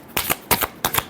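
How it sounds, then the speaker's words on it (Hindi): Three short, crisp riffles of a tarot deck being shuffled, evenly spaced and close up, each a quick double flick of cards with no talking. "Last shuffle."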